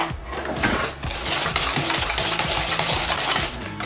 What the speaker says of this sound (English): Right, just going to whisk that till it's proper creamed together.